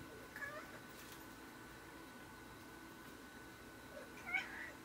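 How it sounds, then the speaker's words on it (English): A house cat gives two short, faint meows, one near the start and one near the end, over a quiet room hum. "the cat is talking."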